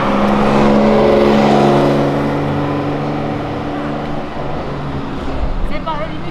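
A classic car's engine held at high revs against the rev limiter at a classic car meet, loud and close, a steady buzzing drone that eases slightly near the end while people talk over it.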